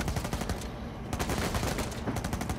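Rapid gunfire in the video game Uncharted 4, dense bursts of automatic shots with repeated sharp cracks layered over a constant rumble, loud and close throughout with no voices.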